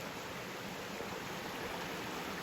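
A river flows steadily near a washed-out bridge on a forest trail, producing a continuous, even rushing wash with no voices.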